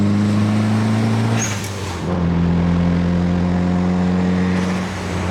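A turbocharged Honda Accord engine hums steadily from inside the car, its pitch dropping briefly as it shifts gear, then settling into an even drone.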